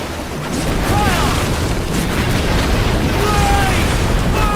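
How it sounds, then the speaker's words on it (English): Ship cannon fire in the Assassin's Creed Black Flag video game, a loud sustained rumbling barrage of booms blending into continuous roar, with faint whistling streaks over the blasts and no speech. "You brace for the cannon fire"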